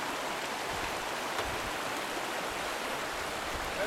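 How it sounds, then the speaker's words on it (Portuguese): A river branch flowing steadily outdoors, a continuous broadband rush of water that stays even and fairly loud throughout, with no voices. "Veja o braço do rio."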